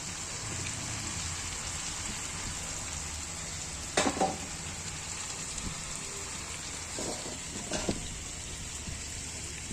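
Oil sizzles steadily in a frying pan during rooftop cooking as a ground spice mix and then water go in, with a few brief clatters and stirring noises over the constant hiss.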